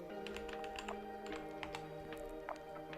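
Quick, steady tapping on a computer keyboard while a search for VirtualBox is typed, a close, fairly quiet run of clicks over a faint background hum.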